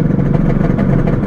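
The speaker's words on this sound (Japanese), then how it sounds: "アイドリングしっかりしてますね" A Honda NSR250 two-stroke motorcycle engine with a carburettor and a fresh CDI ticks over at idle, a close, steady burbling rumble for about a second.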